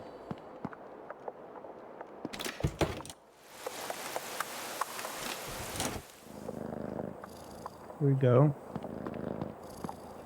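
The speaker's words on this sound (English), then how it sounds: "Hey, kitty." A cat purrs in the video game Creepy Tale 2, a soft rumbling heard amid rain, footsteps and other game noises, with a person briefly speaking.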